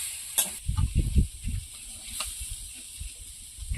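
Taro stalks frying in a pan give a soft sizzle with a few louder stirring bursts near the start, fading to a quieter, steady hiss, with no one speaking.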